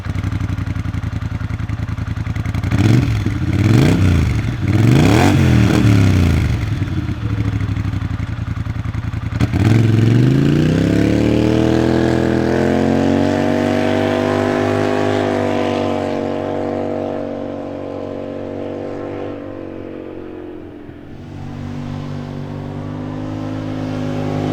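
Polaris Sportsman High Lifter ATV engine fitted with an MBRP 5-inch Performance Series slip-on exhaust, revving in several sharp bursts, then climbing into a long sustained loud run before settling back, close by with no talking.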